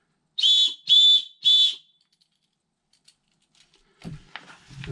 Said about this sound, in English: A whistle. This is an Acme whistle from England.